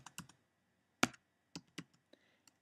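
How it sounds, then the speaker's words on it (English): A few soft, isolated key presses on a computer keyboard, one sharper click standing out, close and quiet with no talk. "And then click enter."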